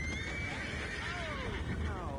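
A horse in the Red Dead Redemption 2 video game neighs loudly in a long, falling whinny, with a second shorter whinny near the end, over a steady background murmur.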